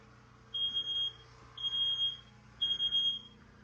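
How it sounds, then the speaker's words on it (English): A smoke alarm set off by cooking sounds three loud, high-pitched beeping bursts, each roughly half a second long, repeating steadily against a quiet room hum with no talking. "You can hear the smoke alarm going off."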